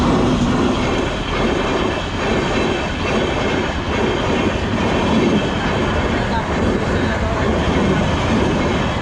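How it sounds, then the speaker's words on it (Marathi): A train crossing a level crossing near Pune, its steady, loud rumble and rhythmic clatter of wagon wheels filling the whole stretch, close by and continuous. "आणि आता फाटक लागलेलं आहे, आपल्याला ट्रेन क्रॉस होणार आहे"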